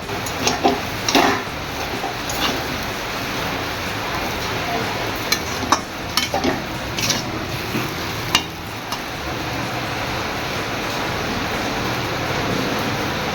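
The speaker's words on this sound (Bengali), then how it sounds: "তো চলুন এই সমস্ত কিছু দিয়ে আমি আবার ভালোভাবে নেড়ে নিই।" Mixed noodles with soy and chili sauce are stirred in a pan, with scattered scraping clicks of a utensil against the metal over a steady sizzling hiss, moderately loud and close.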